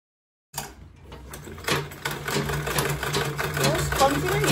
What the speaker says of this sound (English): I'm just going to take it to the machine and sew on this line.